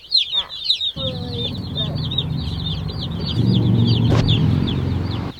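Meat chickens cluck and chirp steadily in an outdoor brooder, a busy flock close by, with a soft low rumble joining partway through and a brief sharp knock near the end.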